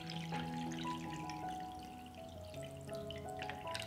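Water runs steadily into a pot holding glass jars set on a cloth, filling up to the lid height, a continuous trickling pour close by with no talk.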